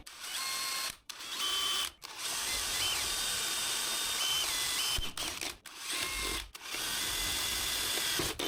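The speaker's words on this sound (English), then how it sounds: "Gonna pull this out, drill our holes." A power drill bores holes in a part of an old Cub Cadet 1600 plow tractor, whining and grinding in several bursts of a second or more, separated by short pauses as the trigger is released.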